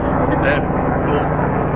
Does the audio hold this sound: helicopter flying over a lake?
yes